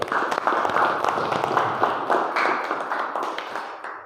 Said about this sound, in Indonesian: Tepuk tangan dong untuk Arke.